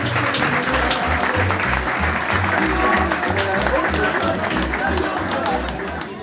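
Audience applause at a folk music gathering (peña), a dense sustained clapping from a crowd, with a rhythmic low thumping beat underneath and some voices mixed in.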